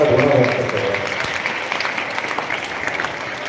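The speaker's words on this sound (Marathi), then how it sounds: "आपण या सर्व गुरुजनांचा जोरदार टाळ्या वाजवून त्यांच्याबद्दल ऋण व्यक्त करूया" Students at a school prize-distribution ceremony in Akkalkot clap loudly for their teachers, a dense burst that starts strong and thins slightly while continuing throughout.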